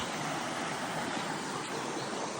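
A mountain stream runs along a hill trail, a steady, even rush of flowing water that fills the whole moment with no voices.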